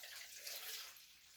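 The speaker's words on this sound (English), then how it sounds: "Now we're going to pour this in" Warm water is poured into a bowl to make Amish bread dough, a brief, soft, close-up splashing trickle with no talk over it.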